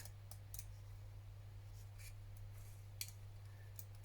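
Scissors snip paper for a photo tag in a few faint, scattered clicks, close but quiet over a steady low electrical hum, with no voices.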